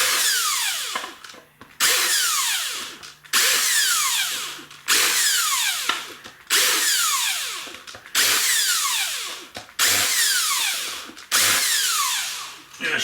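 A handheld power tool grinds burrs off cut metal ends in a shop, in about eight repeated bursts of rising whine, each roughly a second long with short pauses between them.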